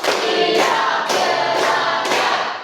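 Classroom pupils clap in unison through a counted routine, a series of five short, evenly spaced bursts of many hands striking at once, loud and near with no talk over them.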